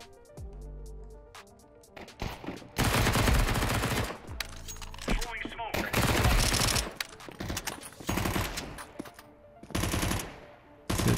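Rapid gunfire in the video game CS2, with long loud bursts of automatic shots and sharp single cracks separated by quieter gaps, close and dense throughout without audible talk.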